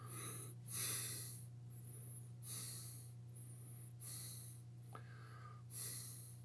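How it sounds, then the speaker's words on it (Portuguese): Heavy, labored breathing through a protective face mask, several loud, rhythmic breaths with a hissing airflow, each followed by a quiet pause, close up over a steady low hum. "com essa respiração ofegante"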